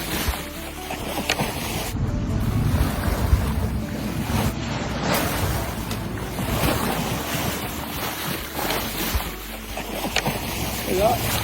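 Monster ocean waves crash and roar during a storm at sea, a loud, continuous wash of surf and wind buffeting the microphone with no clear gaps, heavy churning water dominating throughout.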